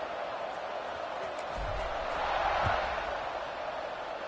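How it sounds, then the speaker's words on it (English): Football stadium crowd at a Clemson Tigers game buzzing after a touchdown return, a broad steady roar that swells slightly midway, heard alone without talk. "this crowd is buzzing after that last score"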